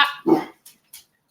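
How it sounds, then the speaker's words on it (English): A dog gives one loud, close bark, followed by a couple of softer, shorter huffs, then silence. "Dog."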